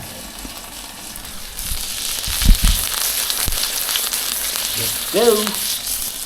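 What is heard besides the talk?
brinjal (baigan) roasting for baigan bharta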